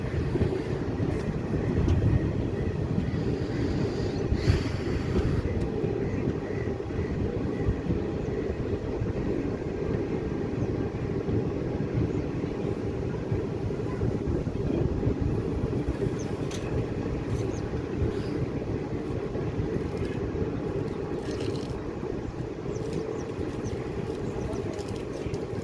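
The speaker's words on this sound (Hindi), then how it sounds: "दोस्तों हमारी ट्रेन स्विच कर चुकी है रुड़की देवबंदी लाइन पर, और बहुत ही मैसिव कर्व है यहाँ पर।" A passenger train running along the new Deoband–Roorkee railway line, heard from inside: a steady, loud low rumble and rattle of wheels and carriage that holds on without pause.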